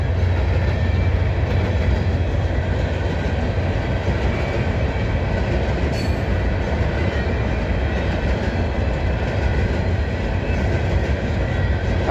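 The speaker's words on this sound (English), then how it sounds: "I think I filmed this train coming through the other morning going down to the coal plant." A freight train headed to a coal plant near the Highway 72 bridge in Abbeville, South Carolina rumbles past steadily and loudly, deep continuous rolling noise with rail clatter throughout, no voices.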